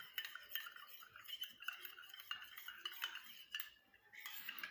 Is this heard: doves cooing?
no